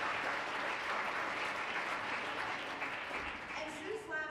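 A conference audience applauds steadily, a dense wash of clapping from many hands that holds at an even level throughout, with faint murmuring underneath.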